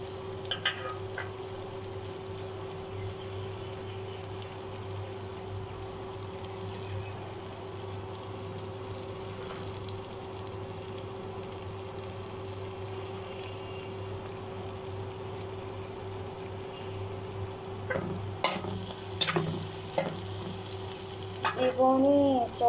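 Shrimp and rooftop-grown Malabar spinach frying in a pan, a steady low sizzle with a constant hum underneath, occasional scrapes of stirring, and louder clatter and stirring near the end.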